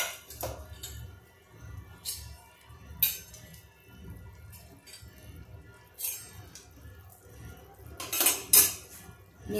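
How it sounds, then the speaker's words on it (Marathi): Fried vadas lifted out of a pan with a utensil for a South Indian rasam vada dish, giving soft metallic clinks and scrapes of cutlery against the pan, with a few sharper clatters near the end over low kitchen noise. "आता हे सगळेच वडे मी काढून घेते"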